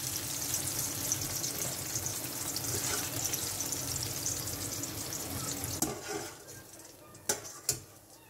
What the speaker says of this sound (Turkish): Kalan patlıcanlarımızı aynı şekilde kızartıyoruz.